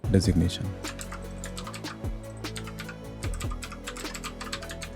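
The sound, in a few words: typing code on a computer keyboard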